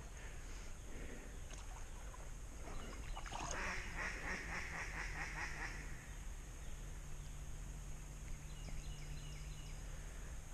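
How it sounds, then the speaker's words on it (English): Flying mallards quack in a short burst of repeated, fairly distant calls over a steady outdoor hum, then fade to scattered faint quacks. "We got big ducks flying. You can hear them quacking."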